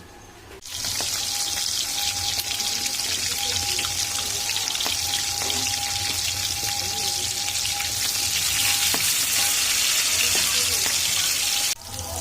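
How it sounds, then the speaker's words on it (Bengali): Rohu fish pieces rubbed with turmeric and salt fry in a pan of hot oil, giving a steady, loud sizzle that holds evenly throughout with a faint thin tone running beneath it. "আর মাছগুলো ভালো করে ভেজে নেব।"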